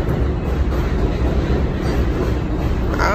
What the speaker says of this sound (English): Two train coming.